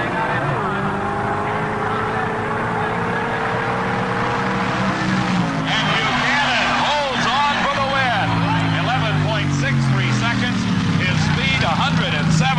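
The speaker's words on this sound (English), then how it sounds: "Leading the line on the green, both cars head towards the finish line." Two 1978 drag racing cars, a Chevrolet and a Ford Mustang, roar down the strip at the NHRA Sportsnationals Stock Eliminator final, their engine notes rising and sweeping in pitch as they pass, with an announcer talking over them.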